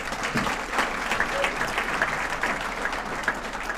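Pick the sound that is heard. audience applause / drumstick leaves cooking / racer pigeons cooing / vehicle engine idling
audience applause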